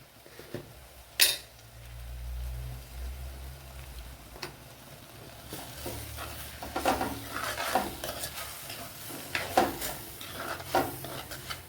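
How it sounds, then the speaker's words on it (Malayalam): A spoon stirs chili and turmeric powder into onions in a cooking pan for savala aviyal, producing soft scraping and occasional metallic clicks with a faint sizzle underneath and no talking. "നല്ലതുപോലെ ഇളക്കി യോജിപ്പിച്ച് കൊടുക്കണം"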